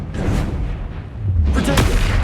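Confringo blasting-spell explosions from the video game Hogwarts Legacy: a loud, booming burst that fills the scene, then a second heavy blast swelling up about a second and a half later, with shouted spell names around it.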